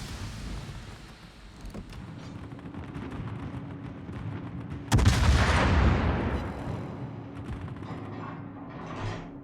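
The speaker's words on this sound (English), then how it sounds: "Do a couple of shots against the sub" Naval guns fire at a submarine in the World of Warships game: one heavy, booming salvo with a long rumbling decay over a low mechanical drone, then a fainter rumble near the end.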